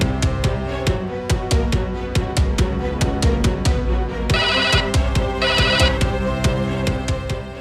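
A telephone rings with a steady repeating electronic ringtone, loud and close, pulsing rhythmically with a brighter trilling pattern in the second half, no talking.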